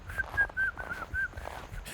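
Short, clear whistled notes in a loose, wandering tune, close by over faint background noise.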